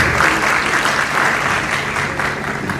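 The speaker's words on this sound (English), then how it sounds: "Please give Exim Bank a round of applause." Steady applause from a summit audience at the first Delta State MSME Summit, loud and continuous throughout, with a dense crowd clapping and no speech over it.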